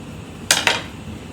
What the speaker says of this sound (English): So I'm going to give these a little bit of a stir